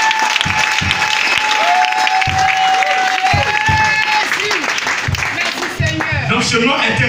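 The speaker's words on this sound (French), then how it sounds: "Est-ce que tu peux acclamer ton Dieu?" Church congregation applauding and cheering for God at a spiritual anniversary service, sustained loud clapping and crowd voices with shouts and a held vocal note over it.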